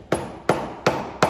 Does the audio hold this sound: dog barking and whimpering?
no